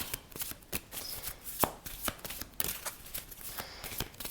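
A deck of oracle reading cards being shuffled by hand, a close series of crisp riffling bursts and soft slaps in an irregular rhythm, with no speech.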